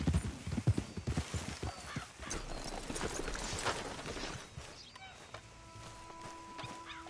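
Horse hooves clip-clop steadily in the Western video game Red Dead Redemption, a loud, close, rhythmic trot over a low ambient bed, with a faint tonal hum near the end.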